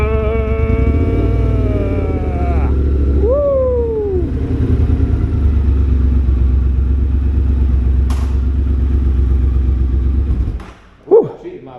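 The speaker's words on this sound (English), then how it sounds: "we're riding the XSR 700, but it's not just the normal 700, it's the XTribute" A Yamaha XSR 700 XTribute, a 700cc motorcycle, ridden close-up with a loud, steady engine drone that climbs and falls in pitch through gear changes and revs, ending with a thump and a brief clatter.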